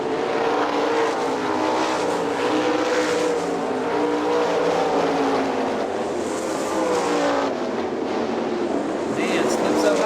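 410 sprint cars race at Hartford Speedway, a continuous dense roar of engines circling the track at distance, steady and loud, with a race commentator talking over it throughout.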